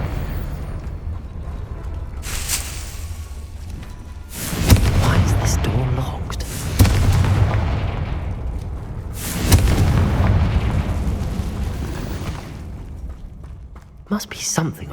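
Confringo blasting-curse explosions in the Hogwarts Legacy video game: three heavy booms a few seconds apart, each fading into a rumbling tail, with quieter mechanical sounds between them.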